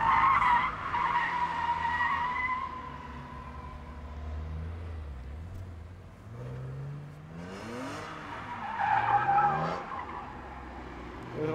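A BMW's tires squeal and skid loudly as the rear end breaks away on the Salzburgring racetrack, with the engine note dropping and then revving back up in a rising whine.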